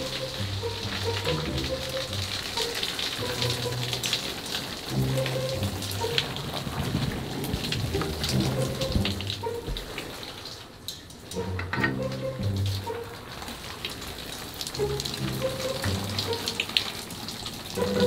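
Water runs steadily from a shower head, a continuous hiss and patter with brief shifts in level, while muffled music or voices sound faintly underneath.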